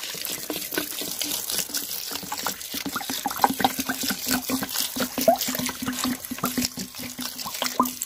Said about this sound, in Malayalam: 1 ലിറ്റർ ഗോമൂത്രമാണ് ഒഴിക്കുന്നത്.